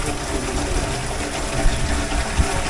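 Water from a spring source pours steadily into a village supply system, giving a close, continuous rushing gush with no voices.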